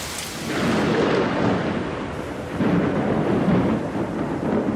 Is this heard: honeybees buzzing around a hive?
no